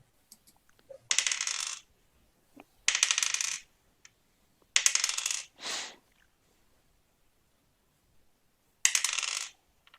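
Dice clatter across a table during a Dungeons & Dragons session, four separate bursts of rattling rolls, the last after a pause, fairly close with no talk over them.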